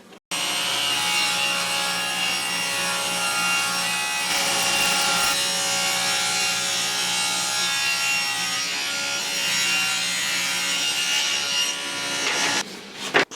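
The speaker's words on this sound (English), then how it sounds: "I'm going to be sanding both of those faces" Steady, continuous abrasive rasping of sandpaper on the wooden faces of a camp door, close and loud, running without pause for over twelve seconds with no talking.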